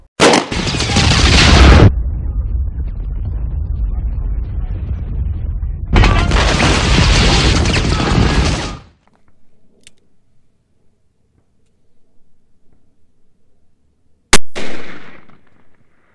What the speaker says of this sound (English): We're going to shoot it out of my four and a quarter inch Smith & Wesson Model 69 Combat Magnum